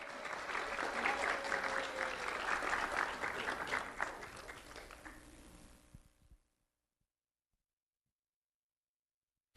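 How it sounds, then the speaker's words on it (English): A round of applause for an award winner at a school recognition event, loud sustained clapping from an indoor crowd for about six seconds before it quickly dies away into silence. "Let's have a round of applause for Mia Batista."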